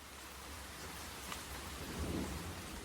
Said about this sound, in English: The only sound is that of the hard rain.